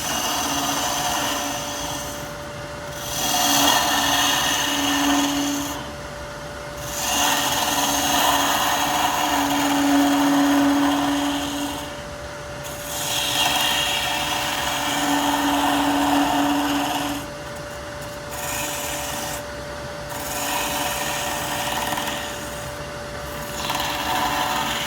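Gouge cutting the front of a cedar bowl spinning on a wood lathe, a steady rasping, scraping hiss in repeated passes of several seconds each, swelling and easing with a constant motor hum beneath.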